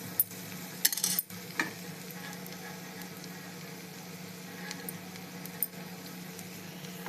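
Rava uttappam frying in oil on a dosa pan, a soft steady sizzle with a few clinks of a spoon or utensil near the start.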